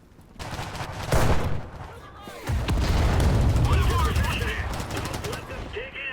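Grenade explosion and bursts of gunfire during infantry combat in the War Thunder video game: a heavy boom followed by a dense, sustained stretch of rapid shots and rumbling blasts, loud and close.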